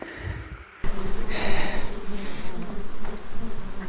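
A fly buzzes close by outdoors on a mountain boar hunt, a steady droning hum with wavering pitch that swells and fades over a couple of seconds, heard alone without speech.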